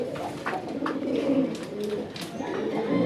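A female Raj Golla pigeon coos in repeated low, throaty calls, close by, with other birds faintly in the background.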